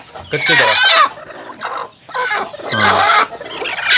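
Native country chickens raised on a small backyard farm cluck and crow loudly and close by, in overlapping calls that rise and fall for several seconds with no pause.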